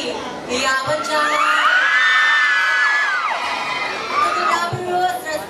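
A crowd at a gay pageant event shouts, whoops and cheers loudly, with a long rising yell from many voices sustained through the middle before dying back, some talk mixed in.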